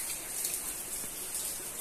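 Heavy rain pouring outdoors where potted plants are set out, a dense steady hiss of falling water, close and fairly loud without pause.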